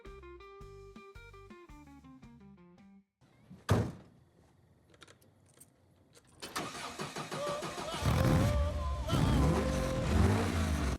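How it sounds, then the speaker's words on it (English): A car engine cranks and catches in a Hollywood film scene, preceded by a door thunk, then settles into a loud, steady running rumble as music plays underneath. "Cliff gets into his car, starts the engine"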